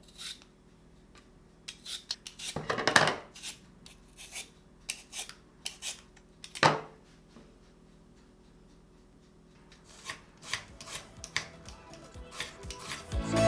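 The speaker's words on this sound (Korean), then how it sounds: "감자를 간단하게 대충 슬라이스 쳐줍니다" Potatoes being roughly sliced with a knife for a potato pizza, giving irregular scraping and chopping strokes close by, with a few louder rasping cuts and quieter ticking taps between them.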